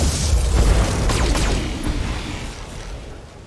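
Weapon strikes from mechs in the Battletech video game land as a deep, rumbling boom with layered crackling impacts, loud and close at first, then slowly fading.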